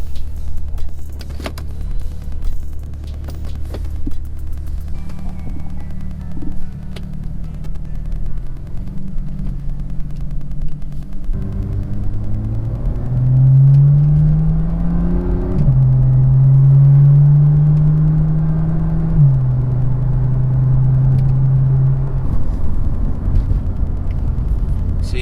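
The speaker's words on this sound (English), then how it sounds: "just a little POV drive action with the BlackEagle" A BMW M2 driving, heard from inside the cabin as a steady low engine and road rumble that rises into a stronger, revving pull in the second half, with no voices.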